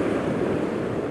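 Waves breaking over rocks on the Irish Sea coast, heard as a steady, dense wash of surf from a distance with some wind, and no voices.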